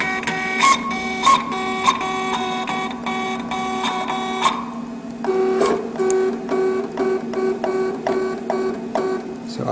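A vinyl cutting plotter runs a contour cut, moving right to left with clustered rhythmic motor whirs and stepping buzzes, close and fairly clear, with no voices.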